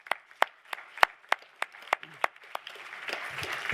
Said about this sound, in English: So please a round of applause for everybody.